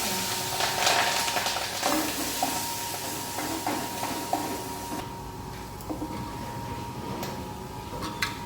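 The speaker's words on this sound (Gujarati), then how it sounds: "ખાલી મરચાં વઘારું" Green chillies sizzle and crackle as they are tempered in hot oil for a cucumber dish, a steady frying hiss with occasional stirring scrapes, heard close and alone.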